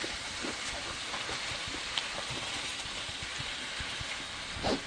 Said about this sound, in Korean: 약간 좀 비 오는 소리도 들리면서 운치가 있네요.